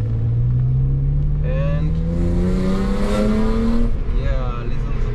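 A BMW 320i E36 coupe with its 2-liter six-cylinder M52 engine driving, a steady engine drone rising smoothly in pitch as it accelerates, loud and close throughout, with a brief word spoken over it.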